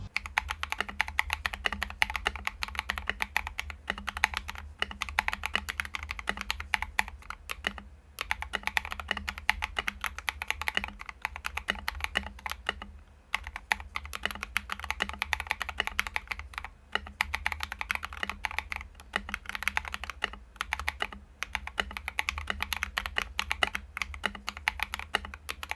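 Steady, continuous typing on a keyboard with linear mechanical switches, smooth, even keystrokes clattering in a fast rhythm, close up and alone, with no talking.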